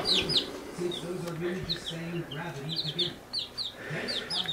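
Young chicks peep in a brooder, giving repeated high, thin chirps in quick clusters over a faint background murmur.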